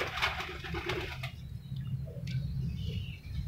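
Racing pigeons coo softly in a loft, low throaty murmurs running under brief wing flutters and faint chirps, with no one speaking.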